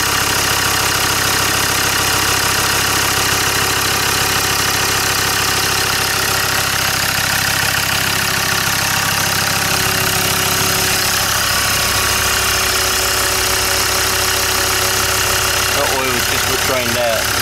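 Close and loud, a Land Rover Discovery 2 engine idles in a steady throbbing run with even, regular firing, and a voice comes in briefly near the end.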